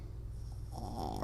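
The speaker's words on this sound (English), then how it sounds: "Are you going to snore today, buddy?" A small dog weighing about nine pounds snores with a low, rumbling, pulsing breath that turns into a raspier snort at the end, close up and quiet, with no talking.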